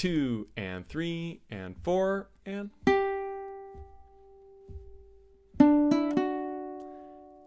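A ukulele plays measure 16 of a song after a spoken count-in: a plucked note rings and fades, a few sparse notes follow, then a quick triplet run of three close-set plucks that ring out.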